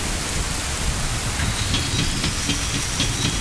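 Steady rain falls in The Legend of Zelda: Ocarina of Time, a dense, continuous hiss of drops with no voices over it.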